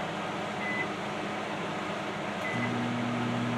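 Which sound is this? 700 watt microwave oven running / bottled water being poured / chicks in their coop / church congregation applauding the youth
700 watt microwave oven running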